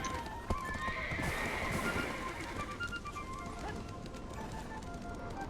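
Horses in the online role-playing game Black Desert clip-clop steadily with a neigh near the start, mixed with cooing birds in the background, moderately loud and continuous with no one speaking.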